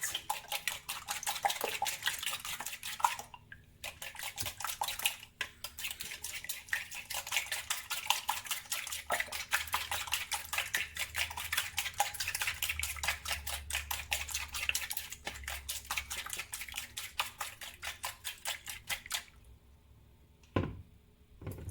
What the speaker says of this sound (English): And then whisk till it's evenly mixed